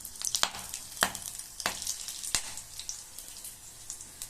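Whole cloves, cinnamon, black peppercorns and bay leaf hitting hot ghee in a pan, several sharp crackling pops over a soft continuous sizzle, close and fairly loud, no talking.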